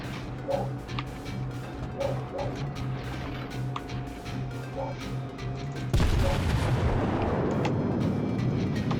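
Naval guns thunder from a warship in World of Warships, a dense rumbling barrage with repeated booms over steady engine drone, swelling into a louder blast near the end.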